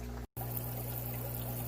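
Fresh water poured into an aquarium during a switch from gravel to sand, a soft steady trickling stream after a brief dropout, faint and continuous.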